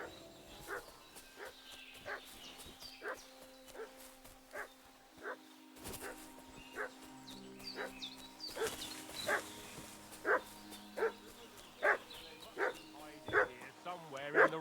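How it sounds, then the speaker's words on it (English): A dog barking in the medieval role-playing video game Kingdom Come: Deliverance II, a series of distinct, fairly close barks in an irregular rhythm that grow louder and more frequent toward the end, over game ambience and a faint voice. "What's that dog making such a fuss about?"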